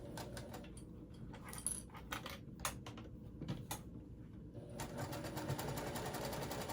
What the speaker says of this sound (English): So I'm just sewing that.